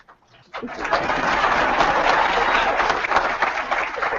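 Audience applause at a virtual town hall, a sustained burst of clapping that starts abruptly and holds steady, dense and fairly close.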